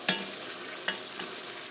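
Meat browning in a pan for Texas chili, a soft steady sizzle with a few sharp scraping clacks of a utensil against the pan, close and quiet, no speech.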